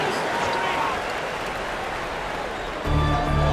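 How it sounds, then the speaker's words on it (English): Crowd applause for the Florida Gators dancers in a basketball video game, a steady wash of clapping and cheering from a large arena crowd that swells louder near the end, with a voice talking over it. "Let's give them a round of applause for Florida Gators dancers."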